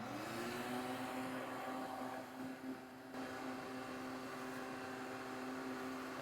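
Steady motor whine of a vacuum cleaner sucking a debris nest out of a BMW 335xi's interior, a constant droning hum with a rising start that holds evenly throughout, fairly close.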